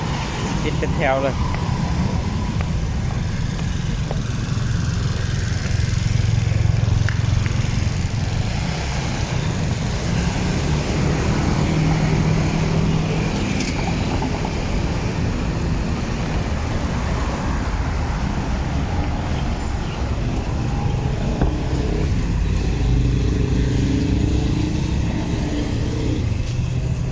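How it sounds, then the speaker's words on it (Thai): A road traffic jam with a line of stalled vehicles. Low engine rumble and idling traffic noise run steadily under people chatting nearby. "รถติดเนาะติดเป็นแถวเลย"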